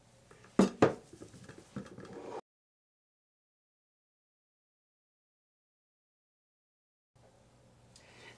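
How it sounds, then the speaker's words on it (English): A spoon stirs soap colorants in small containers for a lavender chamomile cold process soap: a couple of close, sharp clinks and scraping taps, then silence, with a faint rustle at the end. "I'm just going to stir in my other colors here."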